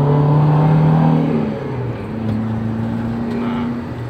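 An older Toyota Avanza after an engine flush accelerates, its engine note droning steadily and close, dipping briefly as the gear changes and then pulling on again, with no talk over it.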